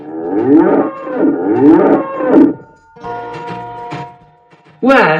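A zebu lows in a series of deep, throaty, pulsing moos, several rough calls run together and then a quieter stretch, with a fresh loud call starting at the end.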